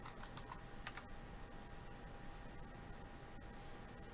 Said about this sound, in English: And then I type in my keywords: damage, eyes, and solar eclipse.